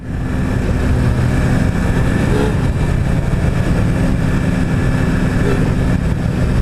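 A 2016 Suzuki Hayabusa sport bike's engine holds a steady, loud drone mixed with rushing wind noise, continuous and unbroken throughout.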